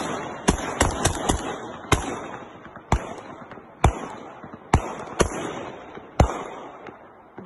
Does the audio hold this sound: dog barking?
no